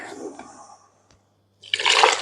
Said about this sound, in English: add some more water. This is called rinsing your butter.